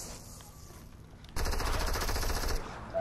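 Rapid automatic gunfire from the video game Fortnite erupts as a loud, dense burst of about a second, set against quieter game ambience before and after.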